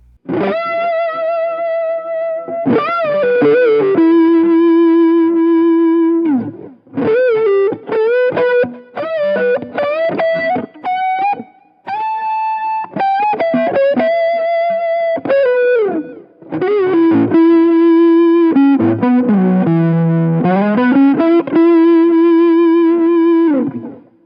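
A PRS Silver Sky John Mayer electric guitar played through a chorus pedal rings out in clean, shimmering sustained notes and phrases with short gaps, loud and close, with no talking.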